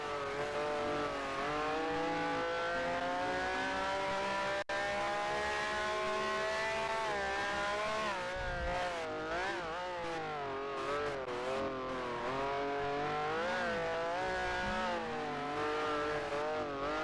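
Formula 1 race cars from 1967, including a Ferrari 312, racing online in GPL at Roswell, engines howling loudly as they accelerate and climb through the revs, with pitch sweeping up and down across gear changes and a rival car close by.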